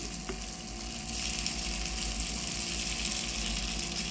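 Gunta ponganalu batter sizzles steadily in a hot oiled pan, a continuous bright frying hiss with no talk over it.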